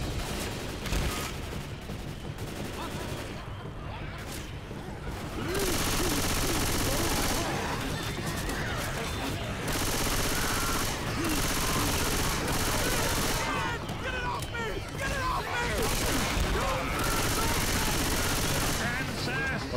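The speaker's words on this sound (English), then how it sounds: "I shot Bill a lot of times." Gunfire in the co-op zombie shooter Left 4 Dead 2, with bursts of rapid automatic shots and heavier blasts rattling on and off throughout, mixed with game noise and players talking.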